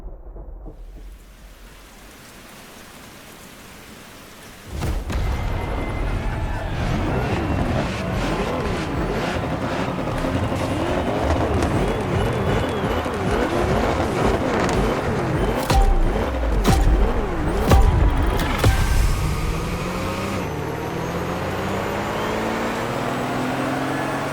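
A race car in The Crew Motorsport video game speeds through a storm, engine revving and shifting loudly over steady heavy rain, after a quieter opening few seconds.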